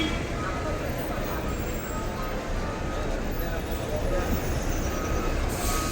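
KSRTC buses at the busy Mysuru suburban bus stand, a continuous dense rumble of idling and moving diesel engines with faint beeps and voices blended into the noisy background.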